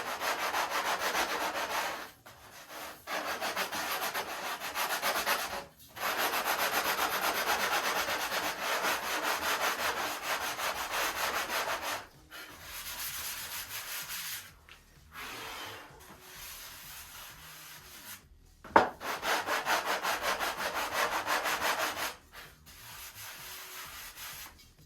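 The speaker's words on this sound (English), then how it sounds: "I'm only sanding over the spar" Wood sanded over the spar of a Top Flite P-40E Warhawk model airplane wing gives a close, steady rasping rub in long back-and-forth strokes, broken by short pauses and one sharp tap, with no talking.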